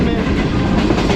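Shalimar Express passenger train rushing past Sadiqabad station at speed, a loud, close, continuous roar of wheels and carriages with rapid rattling clatter.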